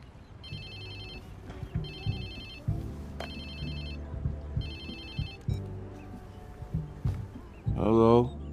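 A phone rings in the video game Watch Dogs 2, its electronic ringtone repeating in short bursts over game music and ambience, with a voice speaking near the end.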